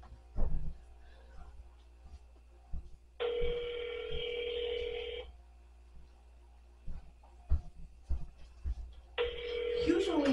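A telephone rings unanswered on a call to a Walmart department, two long electronic ring bursts separated by silence, with faint background noise and knocks between them.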